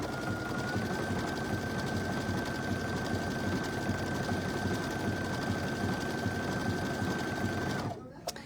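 A sewing machine runs steadily and closely for about eight seconds in a continuous whirring drone, then stops abruptly near the end; a person talks over part of the stitching.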